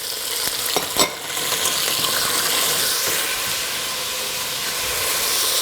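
Mussels and clams dropped into hot garlic in a pan for seafood soup, setting off a loud, steady sizzle and hiss with a sharp clatter near the start, continuing without talk.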